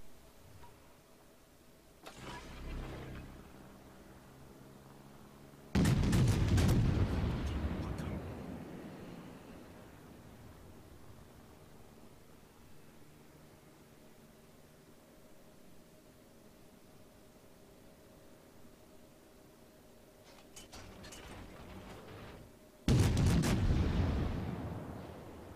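Heavy warship guns fire in a World of Warships naval battle: two loud booming salvos about seventeen seconds apart, each preceded by a fainter shot, with a low engine hum and a voice talking in between.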